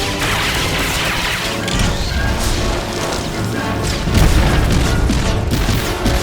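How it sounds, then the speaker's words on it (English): A missile barrage in the Star Wars: The Old Republic video game sets off loud, dense, overlapping explosions that rumble and crash for several seconds, building to a heavier blast near the end. "And with one last barrage of missiles"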